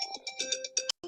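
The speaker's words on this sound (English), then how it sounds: "someone's phone is ringing." A phone ringtone plays during an online class meeting, a short bright electronic melody of quick repeated notes that cuts off suddenly and then starts again.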